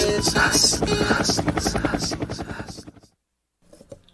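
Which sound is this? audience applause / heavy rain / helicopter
helicopter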